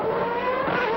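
A Ferrari F92AT Formula One car driven by Alesi in Adelaide in 1992, its engine a loud, steady high-pitched scream held at speed down a straight.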